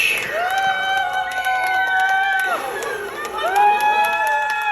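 An audience of children and adults at an outdoor magic juggling street show in Jochiwon, Sejong, cheers and shouts in sustained, overlapping voices for nearly five seconds at a steady, lively level; distinct clapping is not clear.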